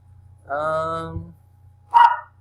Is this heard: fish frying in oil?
no